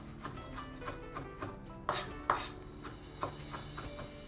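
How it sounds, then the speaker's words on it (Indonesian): Food being minced with a knife on a cutting board in a home kitchen, a series of irregular soft chopping taps at close range, a few sharper louder strikes in the middle. "kemudian aku cincang begini saja"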